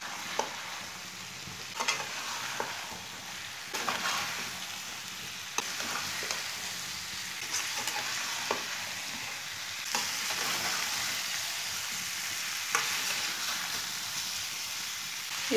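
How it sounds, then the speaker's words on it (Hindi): Boiled potatoes with spices sizzle in a hot pan while a utensil scrapes and stirs them, with periodic clacks against the pan, steady and close, no talking. "आलू डाल लेंगे, इसे अच्छी तरह मिक्स कर लेंगे।"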